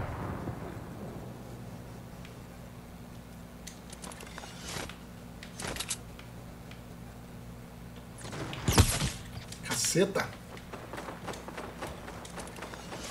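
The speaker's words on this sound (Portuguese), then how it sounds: "De onde veio esse tiro?" Gunfire in a Fortnite match: a few sharp, loud shots burst out around the middle of the clip and again shortly after, over a steady game background hum, with a player's brief exclamation.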